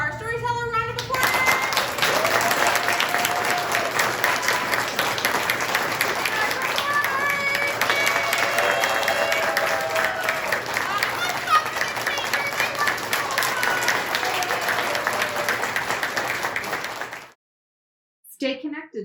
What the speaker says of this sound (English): Having a round of applause for our storyteller, round of applause